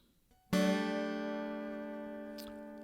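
Two strings plucked together on a Weissenborn slide guitar tuned to open D, one bright harmonic chord that rings out and decays slowly, with a faint slide-like sweep near the end.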